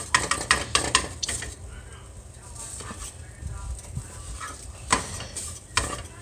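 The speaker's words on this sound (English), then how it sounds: "Just chopping in pieces so my nephew could eat it easier." A spatula chopping an egg omelet into pieces in a pan makes a quick series of sharp metallic taps and scrapes, then quieter stirring and two more clacks, close to the microphone, with a voice speaking.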